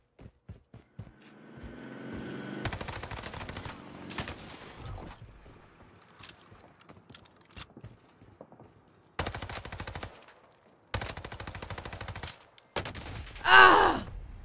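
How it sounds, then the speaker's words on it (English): Warzone gunfire fired through a window grating, heard as several separate loud automatic bursts broken by short silences, with a brief sharper burst near the end. "I was shooting through that window in the grating"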